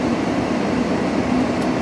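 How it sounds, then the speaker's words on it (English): A vacuum pump running on an RIE plasma etcher, giving a steady, loud mechanical hum with a constant drone and broadband hiss that continues without a break. "Turn the vacuum on."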